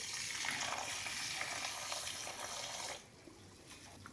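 Water splashes and swishes continuously for a few seconds as quinoa grains are rinsed, then cuts to a quieter, steady trickle.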